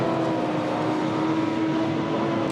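Single-seater Monoposto race cars at Donington circuit sound as a steady engine drone with a sustained pitched whine, loud and unbroken through the moment.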